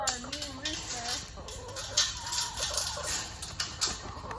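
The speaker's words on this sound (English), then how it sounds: "we gotta watch out for our new rooster" A new rooster on a farm crows and clucks in short, wavering calls near the listener, with people talking over it and outdoor farm noise behind.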